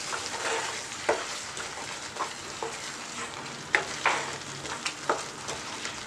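Chicken salna masala sautéing in a pan, a soft continuous sizzle broken by a few sharp spoon scrapes and taps against the pan, close and alone.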